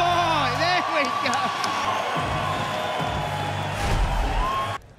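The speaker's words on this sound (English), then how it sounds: "Listen to the crowd." A cage-fight crowd roars and whoops loudly and continuously after a submission finish, with a commentator talking over the noise before it cuts off abruptly.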